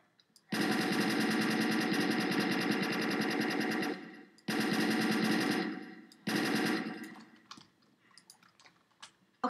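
A P90 in a Minecraft gun mod fires in long rapid automatic bursts, a steady buzzing stream of shots that cuts off, resumes twice, then trails into a few scattered clicks.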